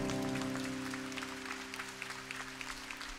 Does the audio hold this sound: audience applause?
yes